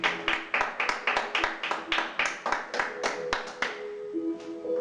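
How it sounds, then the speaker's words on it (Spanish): Congregation at a church service clapping together in a rapid, steady rhythm of sharp hand claps, fairly close, fading near the end. "Dale fuerte el aplauso al Señor."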